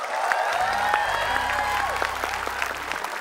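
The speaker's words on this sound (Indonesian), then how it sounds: "Tepuk tangan dong." An audience breaks into applause, a dense burst of clapping that carries steadily across the moment, with some crowd noise underneath.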